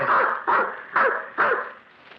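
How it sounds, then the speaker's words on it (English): A cocker spaniel barks four times, loud and close, evenly spaced about half a second apart, with nothing else in the background. "I took with me Flush, a cocker spaniel he had entrusted to me."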